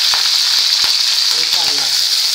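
Cumin, mustard seeds, green chili and curry leaves fry in hot oil for kanda poha, a steady loud sizzle with scattered pops and crackles throughout, close and alone with no talk.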